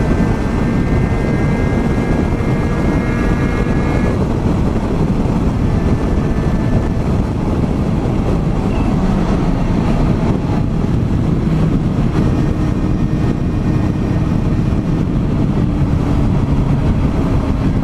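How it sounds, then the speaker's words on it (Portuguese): Suzuki Bandit 650 motorcycle under acceleration with its exhaust roaring, a loud, steady rush of engine and wind noise with faint rising tones running throughout, no voices. "Você vai acelerando, a moto arranca."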